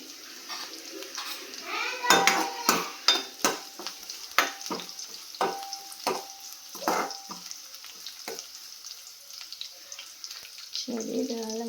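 Ingredients sautéing in a pan for an okra fry, with a continuous sizzle under a run of sharp spatula scrapes and clanks against the pan, loud and close, and a short burst of voice near the end.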